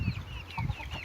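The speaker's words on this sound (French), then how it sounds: "on a mon beau coq Brahma." A Brahma rooster gives a few low, soft clucks in a quick rhythm, close by, with a faint chirping of other birds around it.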